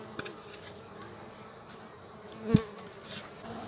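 A strong stingless bee swarm buzzes softly at an opened hive box during colony division. The low, steady hum runs throughout, with one brief sharp knock partway through.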